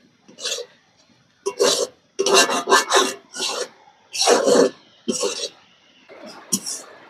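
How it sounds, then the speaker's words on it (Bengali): Semolina (suji) and fried vegetables stirred together in a pan, giving a series of close, rasping scrapes in uneven bursts separated by brief pauses. "সবগুলো আমি একসঙ্গে ভালো করে নেড়ে নেব।"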